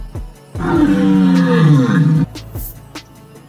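A lion gives a loud, deep, sustained roar lasting nearly two seconds, close and dominant, framed by short thumps and sounds before and after.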